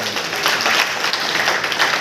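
A crowd at a political gathering applauds, producing a dense, continuous wash of clapping at close range that holds steady for the whole stretch.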